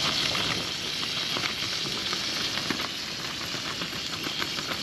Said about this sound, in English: burgers are on, the skillet's going well